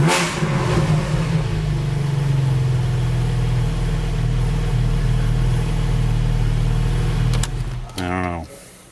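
Engine of a Porsche GT4 sports car revving steadily with a raspy exhaust note, loud and close, holding for about seven seconds before cutting off, followed by a brief burst of talk.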